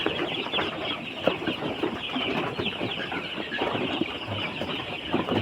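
Ready-to-lay hens cluck and chatter steadily nearby, a busy flock murmuring with occasional sharper calls over a constant hum.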